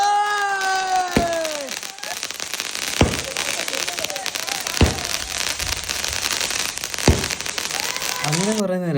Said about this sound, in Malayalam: പടക്കം പൊട്ടിച്ച് തീർത്തപ്പോ അടുത്ത പടക്കം മേടിക്കാൻ പോകുന്നു